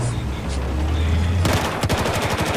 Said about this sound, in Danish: Hey, der er en, der skyder på mig hernede fra.